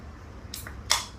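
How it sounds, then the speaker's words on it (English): Two quick crisp hissing bursts, the second louder, as a beer can tab pops and fizzes, close and alone in a quiet room. "the sweet sound of cracking open a cold one on a hot summer day."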